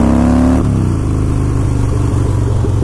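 A Harley-Davidson Blackline motorcycle engine revs up close, a loud steady rumble whose pitch climbs and then drops back to a lower idle-like drone.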